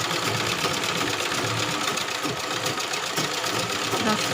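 A sewing machine stitches fabric in one steady, continuous mechanical whir, close and fairly loud, without pauses for the full stretch.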